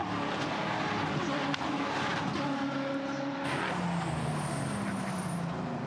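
Race cars roar past on a circuit in mid-race, a steady loud engine drone with shifting pitches as cars pass near and far, no talk over it.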